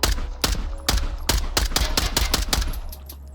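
Rapid pistol gunshots in a VR shooter video game played on a Reverb G2 headset with a ProTubeVR MagTube, about ten sharp, close, evenly spaced shots fired in quick succession.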